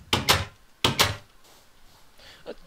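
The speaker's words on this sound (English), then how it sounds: "The doors are really loud." A wooden door in Minecraft opening and closing twice, each a loud close pair of clattering knocks, the two pairs less than a second apart, followed by quieter shuffling and a faint click.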